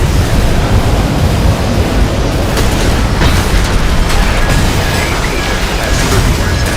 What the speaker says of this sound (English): I kind of detonated that assault armor right in the middle of them